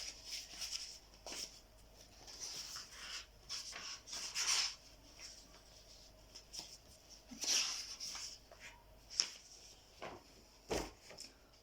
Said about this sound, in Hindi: दूसरा क्वेश्चन जल्दी से आपके सामने मैं लिखता हूँ